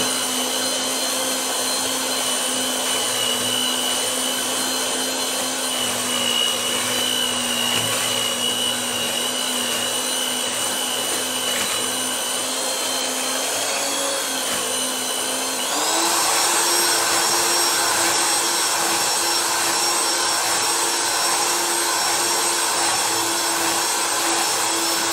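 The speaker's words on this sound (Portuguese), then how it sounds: "A minha batedeira não é planetária. Então assim na mão vai ficar melhor." A non-stand electric hand mixer whipping homemade meringue for filling and topping, a steady high whine that shifts up in pitch and loudness partway through as the speed changes.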